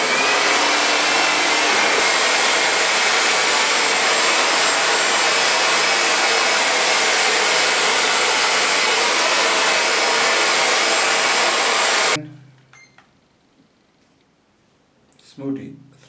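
A hair dryer blows steadily while hair is being styled in a salon, a loud continuous airy roar that cuts off abruptly near the end, followed by quiet handling sounds.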